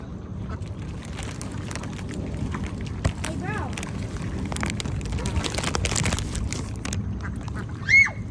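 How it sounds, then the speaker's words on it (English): Ducks quack and geese honk in short bursts as they are fed, over steady outdoor background noise and splashing, with people talking nearby. "feeding the geese"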